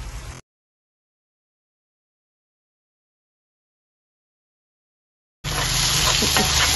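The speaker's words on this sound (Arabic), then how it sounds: "درتهم يتشحروا على عافيه مجهده حتى تبان لي البصله نزلات" Onion and red pepper with spices fry in a pan, heard as a brief sizzle at the start, then a long silence, then a loud, close, steady sizzle returning near the end.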